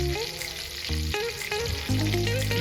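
Masala-coated bombil (Bombay duck) fish frying in hot oil, a loud continuous sizzle with bursts of crackling as each piece goes in, heard close without talk.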